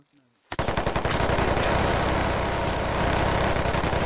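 Loud rapid machine-gun fire in the military shooter Squad erupts after a brief quiet opening, a fast even stream of shots that keeps going to the end.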